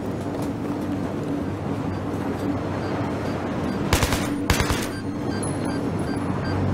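Burst of AK rifle fire in Battlefield 3, two short, loud automatic volleys close together over a steady background rumble of battle ambience, with no talking.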